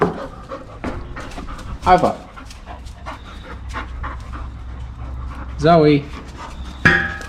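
A dog in a home garage pants steadily and close by, with a few whimpery breaths and louder huffs, while a person talks to it.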